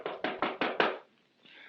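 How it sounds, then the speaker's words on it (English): A door is knocked on five times in a quick, even series, loud and close, with nothing else behind the knocks. "Answer the door."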